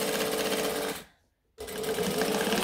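Sewing machine stitching lining pieces right sides together for a Driftwood bag: a fast, close, rhythmic running stitch, pausing briefly into silence midway, then starting up again at the same steady pace.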